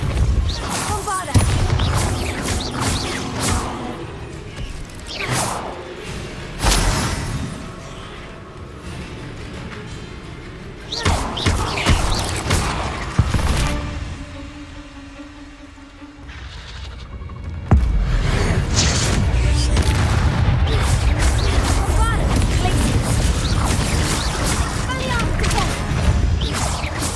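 Bombarda explosion spells in Hogwarts Legacy land as repeated booming crashes among scattered mechanical clatter and other combat effects, with a loud dense burst of blasts near the end.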